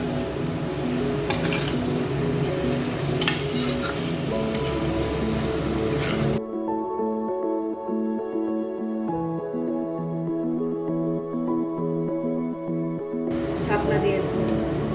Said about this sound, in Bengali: ভালো করে নাড়াচাড়া করবো মশলার সাথে।